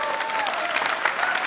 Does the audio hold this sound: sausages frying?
no